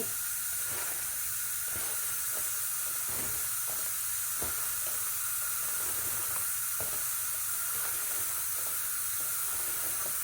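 Water boiling in a pot, a steady hiss with small bubbling pops throughout, close and unbroken, in a rural home kitchen.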